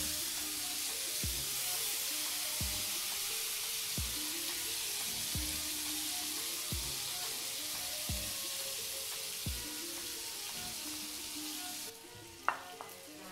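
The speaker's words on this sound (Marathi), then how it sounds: "पॅनमध्ये अलगद मंदाचेवर भाजून घ्यायचे आहे।" Eggplant roasts gently in a pan over a low flame for a Marathi vegetable fry, giving a soft, even sizzle with regular faint taps, then a brief clink near the end.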